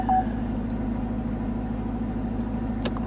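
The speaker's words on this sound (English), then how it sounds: "Felt her go into gear, yeah." A Chevrolet Camaro SS idling steadily with a low, even engine hum, close by, with a faint clunk as the transmission drops into gear and no talk over it.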